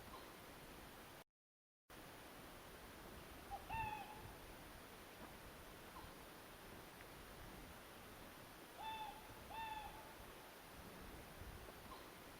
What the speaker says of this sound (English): Then we have a boreal owl.